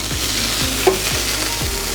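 Gnocchi frying in a pan, a dense, steady sizzle close by, with a few soft scrapes and knocks as the pieces shift, no voices.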